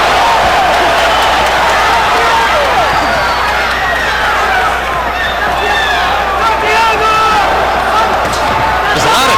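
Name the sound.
crowd cheering in a boxing arena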